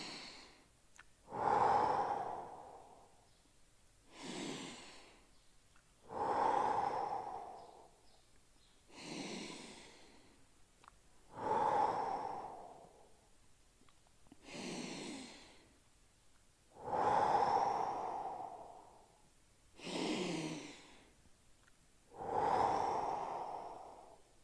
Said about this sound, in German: 5-mal tief in den Bauch atmen.